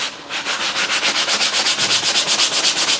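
A brush scrubs rhythmically over a soiled leather car seat, steady rapid back-and-forth strokes, close and moderately loud with no talking.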